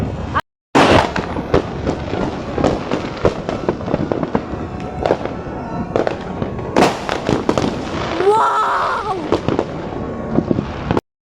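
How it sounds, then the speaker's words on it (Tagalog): Dense, continuous crackling and booming bursts of New Year fireworks going off in rapid succession, loud and close, with a brief excited exclamation from a person. "Super dami fireworks!"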